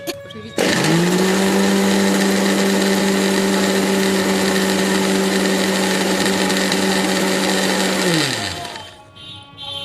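A mixer grinder whirs at full speed while grinding green chilli masala, starting abruptly with a loud steady motor whine that holds for about eight seconds, then winds down and stops, with faint voices after.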